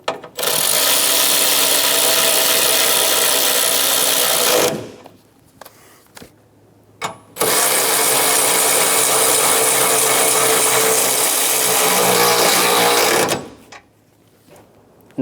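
A power tool snugs down radiator bolts on a 2014-2018 Chevrolet Silverado 1500. It gives two long, loud, steady buzzing runs of about four and six seconds, separated by quiet gaps with a few light clicks.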